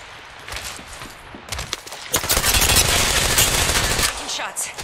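Automatic weapons fire in Apex Legends, rapid bursts building into a dense, loud stretch of continuous shots before easing off, with some game voice chatter mixed in.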